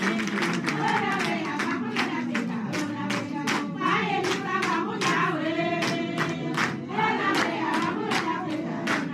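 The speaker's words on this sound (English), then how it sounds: "Now one clap for our president." A large crowd at a national farmers' gathering with the president claps steadily in a loud, dense burst of sharp repeated hand claps, mixed with cheering and crowd voices throughout.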